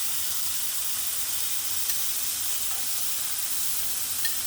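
Peppers, tomatoes and onion rings fry in a pan beside köfte, giving a steady, even sizzle and hiss with a couple of small pops, no voices.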